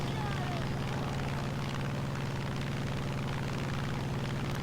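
Propeller engine of a US fighter plane, an F4F-4 Wildcat or F8F-1 Bearcat, in the War Thunder video game, a steady loud droning hum that stays continuous and unchanging throughout.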